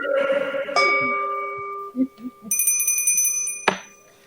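A notification bell effect rings out in bright, sustained chimes, with a second higher cluster of ringing tones entering partway through and a sharp final ding near the end.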